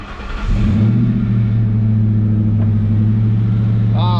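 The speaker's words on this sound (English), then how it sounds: "let's go ahead and fire this thing up" A 2004 Ford Mustang GT fitted with Flowmaster exhaust cranks and fires up, settling into a loud, steady, deep burbling idle close by, with a brief chime near the end.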